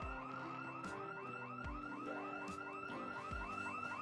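A house alarm blares inside the zombie survival game Project Zomboid, a loud, continuous electronic siren cycling through rising and falling wails and repeating tones without pause.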